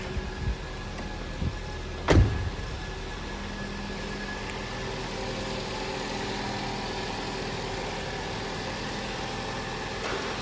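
A roughly 300-euro used car's engine idles steadily on a lot in Germany, a low continuous hum, with a sharp knock or thud near the start and no voices.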